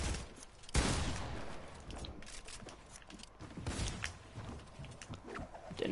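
Pistol shots in a PS4 shooter game, a sharp crack near the start followed by scattered, rapid bursts of fire amid noisy game action, fairly close and moderately loud.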